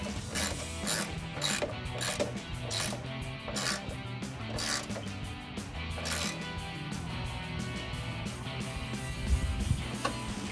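A ratchet wrench clicks repeatedly as it tightens headlight mounting bolts on a 2007-2013 GMC Sierra 1500, close and crisp in bursts of rapid pawl clicking with no talk.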